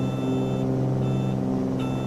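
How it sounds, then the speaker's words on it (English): A steady, repeating warning tone sounds from a Cessna 414 in Microsoft Flight Simulator as the autopilot disconnects, several short beeps over the continuous engine drone, with no talking. "Oh, it's the autopilot off indication."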